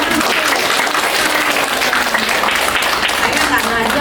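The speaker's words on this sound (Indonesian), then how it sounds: "Jadi sekarang hadiahnya aplaus aja dulu" Audience applause at an academic teaching presentation event, a steady dense wash of clapping hands sustained throughout at close, even loudness.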